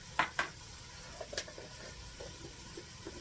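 Garlic is stirred into jambalaya in a pot, with a couple of sharp spoon clinks against the pot at the start, then faint scraping and stirring over a soft, quiet sizzle.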